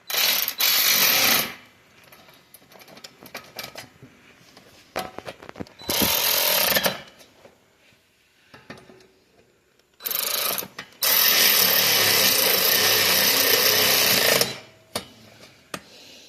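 A power tool runs in several bursts, a short one, another short one, then a longer sustained whir, while header bolts are fastened back onto a 2005 Honda 400ex quad. Quiet mechanical clicks and handling noises fall between the bursts.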